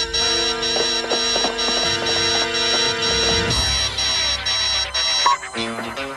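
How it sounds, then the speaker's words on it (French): Alarm signal ringing in a French-dubbed James Bond Junior cartoon, a loud steady electronic ring with strong repeating tones that keeps sounding for several seconds, over music and effects. "Le signal d'alarme."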